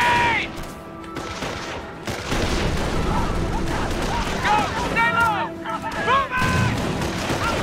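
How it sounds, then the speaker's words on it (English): A grenade explosion and bursts of gunfire in the World War II strategy game Company of Heroes: Tales of Valor, with loud overlapping shots and booms, whistling shell sounds and shouted voices mixed throughout. "Grenade!"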